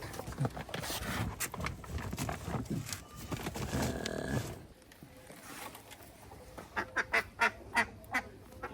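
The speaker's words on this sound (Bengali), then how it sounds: "অনেক হাঁস আছে এখানে" Ducks quack from close by, first in a busy jumble, then in a run of five or six distinct loud calls near the end.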